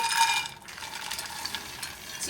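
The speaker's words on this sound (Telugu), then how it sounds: "ముందుగా బాదం వేస్తున్నాము" Almonds tipped into hot ghee in a heavy pan while frying dry fruits for laddu, giving a faint, steady hiss with light rattling, no voices.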